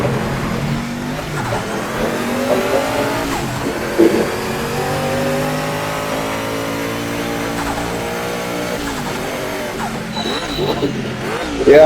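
A Sauber C9 Group C race car in Project Motor Racing at Sebring roars loudly as the engine climbs through the revs, with audible gear changes dropping the pitch before it rises again, while a voice talks over it.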